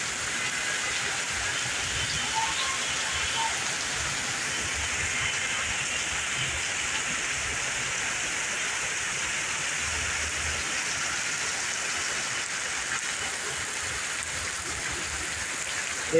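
Steady rain falling on a rainy day, a soft continuous hiss that stays even and moderately distant for the whole stretch, with no voices.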